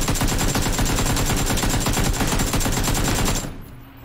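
Sustained rapid automatic gunfire in a shooter video game, loud and dense for over three seconds before cutting off abruptly into quiet.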